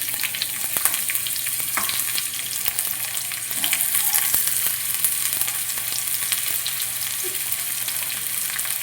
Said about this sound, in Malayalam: വേറൊരു പാൻ ചൂടായിട്ടുണ്ട് അതിനകത്ത് നെയ്യ് ഒഴിച്ചു കൊടുക്കും അതിനകത്ത് കുറച്ച് സവാള ഒളിയിടും